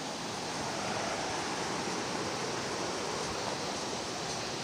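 The Sinti waterfall at Shaktikhor roars as a steady, dense, unbroken rush of falling water that fills the whole space, heard up close with no voices over it.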